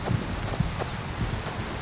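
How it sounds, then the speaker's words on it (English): Rain falls steadily in Skyrim with the Invicta modlist, a constant hiss of rainfall with occasional low rumbles like distant thunder, no voices. "Oh, this will give us a chance to check out the rain. Oh, I like this rain."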